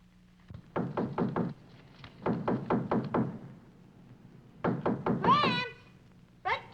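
Three bursts of sharp knocks on a front door, several raps each, with pauses between them, followed by a cat meowing at the end.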